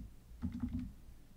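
A handful of quick, soft keystrokes on a computer keyboard while entering a title in a PowerPoint slide, faint and close, in a short burst amid quiet room tone.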